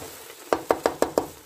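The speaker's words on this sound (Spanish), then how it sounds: "Vamos a revolver" A spoon knocking against a pan while sugar is stirred into quince jam, five quick, evenly spaced taps in a row after a brief quiet moment, close and fairly soft.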